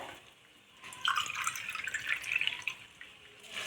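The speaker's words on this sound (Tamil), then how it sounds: "நாலு டம்ளர் தண்ணி விட்டுட்டு" Gentle trickle and splashing of four tumblers of water poured into a cooking pot for Rajasthani kheech, faint at first, then steadier for a couple of seconds before easing off.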